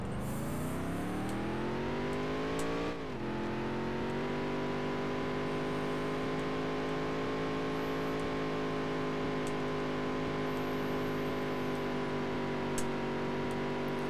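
Race car engine in the Dirt to Daytona video game, revving as it climbs in pitch, then a quick gear-change dip before a long, steady high-revving whine at speed. Loud, continuous, no voices.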